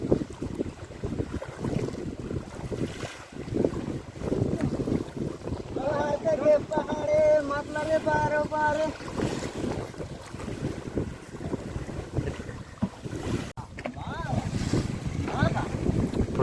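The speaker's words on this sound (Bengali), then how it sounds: "এর ভিতরে কিন্তু প্রচণ্ড হাওয়া উঠেছে" Strong southerly wind buffets a fishing boat on the Matla river in the Sundarbans, roaring steadily and close across the whole stretch, with water and waves slapping the hull and faint voices and some tonal sounds partly audible underneath.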